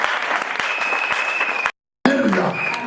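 A church congregation bursts into loud applause and cheering, steady clapping that cuts off abruptly and then resumes.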